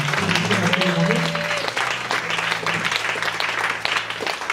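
A church congregation breaks into sustained, dense applause that carries on evenly throughout, with a voice calling out over the clapping near the start.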